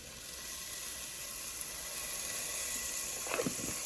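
Garlic cloves hit hot leftover bacon grease in a pan, giving a steady, soft hiss of frying that swells slightly, with a few brief clinks of a utensil near the end.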